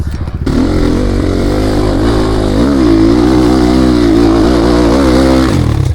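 Chinese motorcycle engine revving hard yet lacking power, a loud, continuous buzzing drone with wavering pitch that holds high, then falls away at the end.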